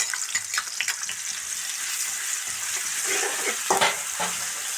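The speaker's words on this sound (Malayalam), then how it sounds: "ഒന്ന് നേരിയതായിട്ടൊന്ന് ഫ്രൈ ആക്കാം." Chopped onion, ginger-garlic paste and green chillies fry in hot oil, making a close, steady sizzle with crackling pops and a few scraping stirs.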